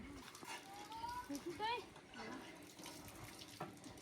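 Water runs from an outdoor tap with a long handle in a rural village, pouring continuously beneath people talking nearby.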